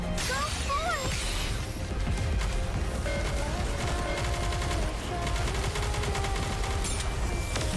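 A barrage of gunfire and impacts during a bombardment in an action game crossover, loud and continuous, dense rattling shots layered over music and effects with no pause.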